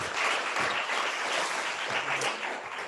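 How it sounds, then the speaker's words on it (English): An audience at a laryngology and bronchoesophagology event claps in steady applause for a patient after a voice demonstration, a continuous dense wash of hands with no talk over it. "I think that deserves an applause."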